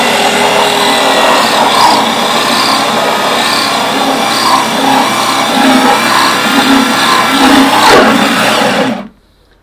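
A steady, loud power drill whines continuously for several seconds while boring wood for an exhaust fan hole, its pitch wavering slightly as it bores, then cuts off abruptly near the end.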